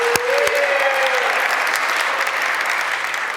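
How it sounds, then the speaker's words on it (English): An audience at a live album launch in Ealing, London applauds the event organisers. The clapping is dense, sustained and fairly loud, with a brief pitched tone near the start that fades out. "give them a clap"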